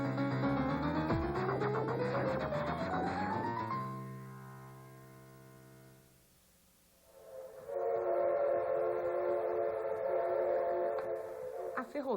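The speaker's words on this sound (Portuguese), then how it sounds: "Chega o primeiro trem procedente de Santos." The first train from Santos arrives at São Paulo's Luz station, its horn rising in pitch over rumbling rail noise. After a brief lull, the rumble of the rolling train returns.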